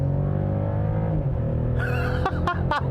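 A 2021 Mercedes-Benz E 450 4Matic with a 3-liter straight-six electrified engine accelerating at full throttle: a loud, steady low drone under cabin noise, joined late by a person's chuckles and exclamations.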